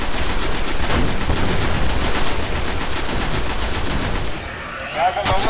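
Rapid, continuous gunfire roars loud and dense through most of the stretch in a Destiny beta firefight, then drops away near the end, leaving a quieter tail with a brief voice.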